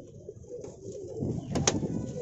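Pigeons coo softly from a rooftop pigeon loft in Ezbet El Borg, Damietta, Egypt, a low steady murmur of several birds close by with a couple of brief sharp sounds near the end.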